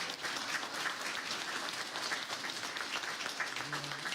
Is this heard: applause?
yes